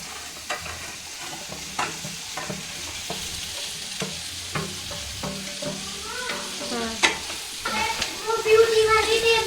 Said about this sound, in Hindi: और हल्दी नमक मिर्च तीनों डाल दे, बस ये सारी अच्छे से मिक्स कर दे